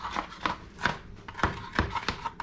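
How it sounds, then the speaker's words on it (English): Onion chopped on a board for pico de gallo, a series of about eight sharp knife taps in an uneven rhythm, close and fairly quiet. "So you gotta chop it up really good. You don't want big chunks of onion in your pico de gallo"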